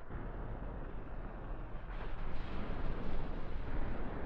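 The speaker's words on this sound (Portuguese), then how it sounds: "A explosão é maior, né?" A car explodes in GTA San Andreas, a dense broadband roar that swells around the two-second mark and rumbles on loudly without a clear single blast.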